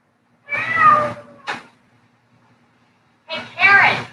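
A cat meows loudly and close up: a long drawn-out meow, a short chirp, then a pause of nearly two seconds before two more meows in quick succession.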